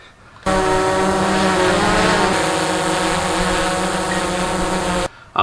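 A DJI Mavic 2 Zoom drone gives off a steady, high-pitched propeller whine that starts abruptly, holds for about five seconds, then cuts out.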